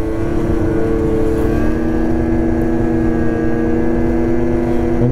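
A 2023 Ski-Doo Renegade X-RS 850 snowmobile pushes through two feet of fresh snow, its engine droning loudly and steadily at close range with a sustained tonal whine throughout.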